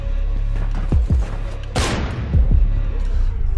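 Gunshots in a video game strike an enemy's shield: a few sharp cracks, then one loud burst of impact noise that decays over a second, with lighter hits after it, all close and prominent.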